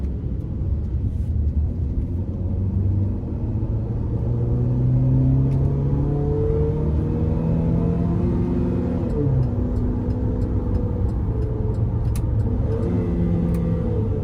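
A 2015 Chevrolet Captiva Sport LTZ engine in manual mode revs and accelerates, pitch rising steadily then dropping at each gear shift, a loud continuous rumble close by.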